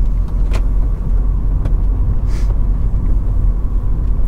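A 1994 BMW 318is E36 Class II Motorsport saloon rolls over cobbled pavement, with a steady, loud low road rumble and tyre drone heard from inside the cabin and a few faint knocks over the uneven stones.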